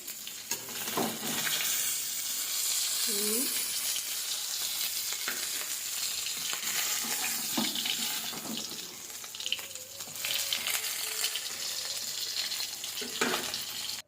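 Fish frying in a pan of hot oil gives a steady, close sizzle throughout, broken by scraping and clinking as the pieces are turned and lifted out.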